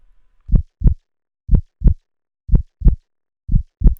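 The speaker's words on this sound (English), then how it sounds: "It was the beating of the old man's heart." Heartbeat sound effect standing for an old man's beating heart: low, dull, paired lub-dub thumps repeating four times at a steady quick pace, close and alone with no talk.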